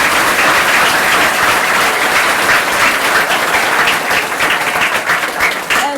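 Children at an award ceremony in Fiji clap together in steady, dense applause that fills the room and carries on throughout, with faint voices underneath.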